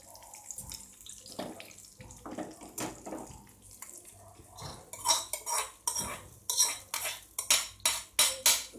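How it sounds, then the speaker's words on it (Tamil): Hot tempering is poured into a white pumpkin aviyal, bringing a sizzle together with metal utensils clinking against a pan. Sharper scraping and stirring knocks grow louder toward the end. "இப்போ இதை வந்து தாளிச்சு கொட்டிடலாம்"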